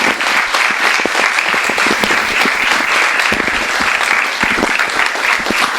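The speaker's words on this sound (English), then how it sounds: "Let's please give her a warm round of applause." A bookstore or event audience gives sustained, dense applause welcoming the cartoonist author of Herding Cats, steady and loud throughout with no talk over it.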